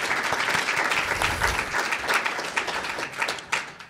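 An audience at a New School public policy event applauds warmly, a full, sustained wash of clapping that gradually thins toward the end.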